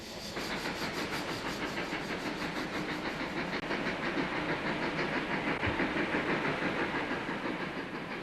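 Continuous rumbling hiss and rhythmic chuffing of a steam locomotive rolling steadily across a viaduct, with no one speaking.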